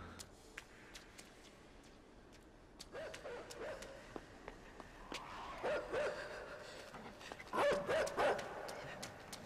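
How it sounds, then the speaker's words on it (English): A dog in the side-scrolling video game Inside yelps and whimpers in short bursts against a dark ambient game soundscape, growing louder and more frantic toward the end, with no one talking. "The dog's gonna find me at all times,"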